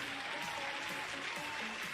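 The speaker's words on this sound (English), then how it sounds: "we got the applause coming in here, too" Applause during a flight simulator livestream, a dense continuous clapping texture that sounds like a crowd, steady for the whole moment and heard with no talk over it.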